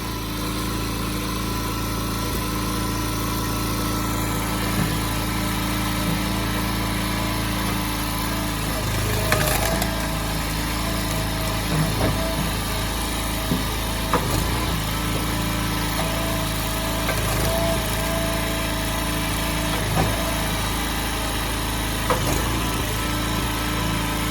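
A small log splitter engine runs steadily while tough hickory firewood is split, a constant loud drone with occasional knocks and cracks from the wood.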